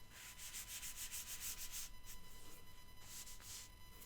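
Hand rubbing across a watercolor painting surface, heard as a run of soft, close, rhythmic swishing strokes that slow slightly in the second half, with no talking.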